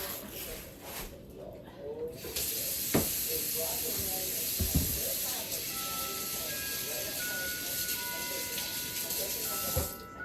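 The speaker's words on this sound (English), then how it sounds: "Let me wash my hands for the next step." Steady hissing rush of running water as hands are washed at a kitchen sink, continuous for several seconds with faint background sounds and a person speaking.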